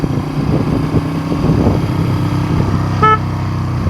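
Beneath a Honda CB350 motorcycle's steady, uneven engine idle, the horn gives a single brief, bright beep near the end.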